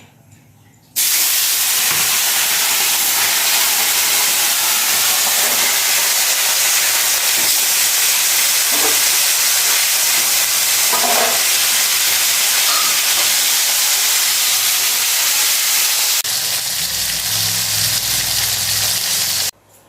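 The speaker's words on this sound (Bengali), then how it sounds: "তেল গরম হয়ে গেছে তেলের মধ্যে মাছগুলো ছেড়ে দিচ্ছে" Silver fish fry in hot oil in a village kitchen, giving a loud, steady, close sizzling hiss that starts abruptly and runs almost unbroken for about eighteen seconds before cutting off.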